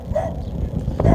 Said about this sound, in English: I don't know how kindly they're gonna take to us with the dog barking